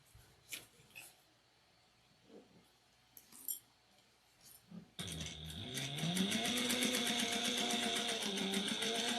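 A sewing machine back-stitching a seam on a triangular shoulder bag: a few soft clicks and handling knocks come first, then the motor starts and runs in a close, steady, rapid needle rhythm to the end.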